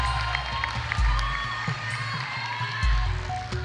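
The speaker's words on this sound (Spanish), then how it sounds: "Fuerte el aplauso para ambas parejas y para sus barras incondicionales." A television dance competition audience applauds and cheers for two couples, a broad crowd roar with claps and shouts, steady throughout with a couple of louder low thumps.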